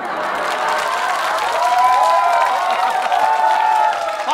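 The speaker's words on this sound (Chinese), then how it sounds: "都开始鼓掌" Audience applause fills a train-platform comedy sketch on stage, steady and loud throughout with scattered cheers and crowd noise, and voices ring out over the clapping.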